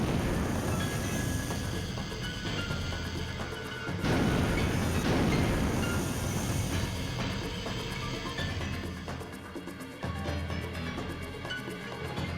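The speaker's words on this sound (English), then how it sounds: "If that missile is launched" Missile launch in the Sonic Adventure video game: a sustained roaring rumble with game music over it, a heavy whoosh surge partway through and a second shift near the end, continuous and loud with no speech.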